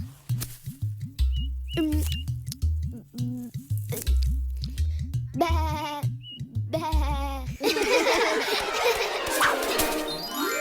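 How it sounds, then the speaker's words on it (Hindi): Sheep bleat close by, with several loud, quavering calls repeating over a rhythmic low musical pulse, ending in a dense wash of sound. "अपनी भेड़ें संभालो श्रीधाम।"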